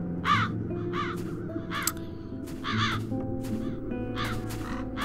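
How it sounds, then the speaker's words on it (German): Crows caw in a video game scene, a series of harsh repeated calls in short bursts of two or three, fairly clear over a low ambient musical drone. "Die Krähen haben von dem Stadtbanner nichts übrig gelassen."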